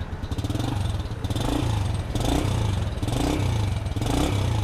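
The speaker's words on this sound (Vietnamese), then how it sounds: "mình xin nổ máy xe rim này" A 1997 Honda Dream motorcycle engine runs steadily nearby, a loud throbbing idle with a slight rev and some mechanical clatter.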